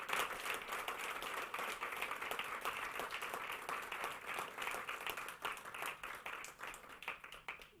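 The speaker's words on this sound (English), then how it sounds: "Please give everyone a massive round of applause for tonight's event." Audience applause at an innovation competition pitch showcase, a steady, dense roll of clapping heard from a distance and sustained throughout, with a faint voice beneath.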